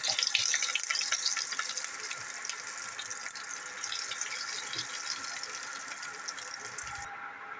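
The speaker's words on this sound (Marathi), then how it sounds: "आता आपण कढीपत्ता भाजून घेऊया" Curry leaves roasting in hot oil in a pan for poha chivda, a steady bright sizzle and crackle that holds for several seconds, fairly close, then thins out near the end.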